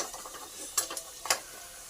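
A curry cooked in a pan with ginger-garlic paste sizzles softly while a spoon stirs it, giving a few sharp scraping clinks over the quiet frying hiss.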